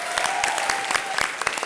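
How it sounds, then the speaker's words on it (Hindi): Dense audience applause at a comedy show after a tribute to actor Ranbir Kapoor, a loud, steady burst of clapping from a studio crowd. "इनके लिए जोरदार ताली।"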